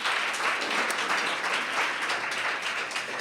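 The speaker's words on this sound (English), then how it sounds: "So let's give them another round of applause." An audience at a school-focused summit breaks into sustained, even applause, many hands clapping at once at moderate loudness.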